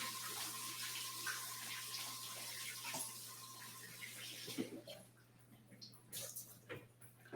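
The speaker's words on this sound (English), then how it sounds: "I'm gonna rinse my hands." Tap water runs steadily into a sink as hands are rinsed, a continuous close splashing that breaks into intermittent splashes near the end, with a steady hum underneath.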